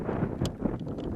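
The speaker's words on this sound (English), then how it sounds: "See, this is the wind I'm talking about." Strong gusty wind blows across a river while fishing, buffeting the microphone with a dull, continuous low rumble and roar.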